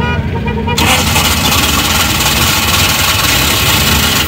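A Suzuki pickup truck engine idles steadily up close at an outdoor car bazaar, a dense continuous rumble with a brighter hiss that jumps up in level after the first second, voices faintly mixed in.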